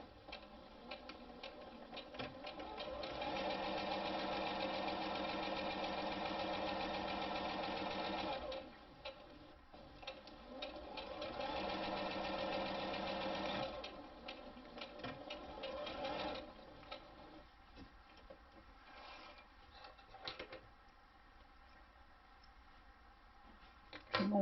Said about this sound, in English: sew along the straight edge of the bottom using a 1/2 inch seam allowance